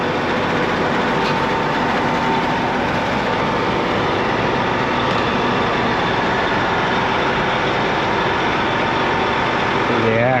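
A tractor engine runs steadily at close range, a loud, continuous rumbling drone that holds unchanged throughout.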